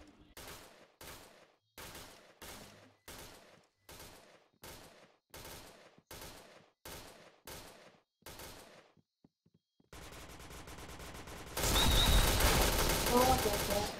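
Rapid bursts of video-game gunfire from Point Blank, a run of loud sharp volleys repeating every half second or so, then a denser sustained roar of heavier firing and explosions toward the end.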